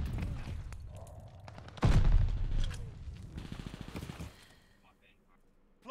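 Video game gunfire in a 4v4 Vanguard ranked match, a loud burst of shots around the second mark followed by rapid repeated firing, mixed with game effects and voices.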